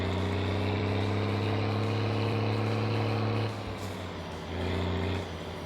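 Truck engine in the video game My Summer Car, a loud steady low drone with harmonic hum that dips in pitch and volume as the revs drop mid-way, then rises again briefly.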